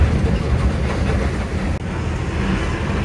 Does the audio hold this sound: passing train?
yes